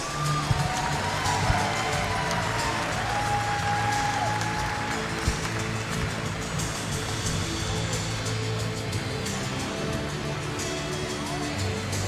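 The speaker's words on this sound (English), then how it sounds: "please give a round of applause for Kendall Cornelius." Spectators at a women's timbersports championship applaud a competitor, a steady, even wash of clapping that carries on for several seconds beneath a crowd murmur and brief higher tones near the start.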